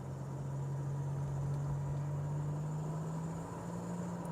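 Turbocharged engine of a 1987 Buick Grand National running steadily, with a faint turbo whine over a constant low drone, close and unbroken throughout.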